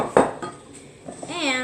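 A metal saucepan clatters as it is picked up and handled in a kitchen, one sharp clank followed by lighter knocks, then a rising ringing tone.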